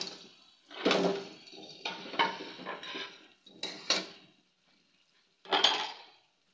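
Chicken going into masala in a cooking pot: several separate clattering, scraping bursts of metal utensil against pot, each short and close, with brief quiet gaps between them.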